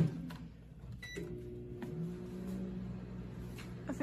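A microwave oven with a burning match inside gives a low, steady hum throughout, with brief clicks and crackles near the start and a few sharp ticks later on.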